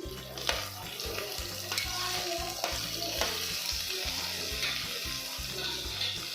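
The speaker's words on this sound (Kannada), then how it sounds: "ಇದು ಸಾಫ್ಟ್ ಆಗೋವರೆಗೂ ಚೆನ್ನಾಗಿ ಫ್ರೈ ಮಾಡ್ಕೋಬೇಕು." Chopped onion and green chili with curry leaves fry in a pan, a constant close sizzle with stirring scrapes and a low rhythmic hum underneath throughout.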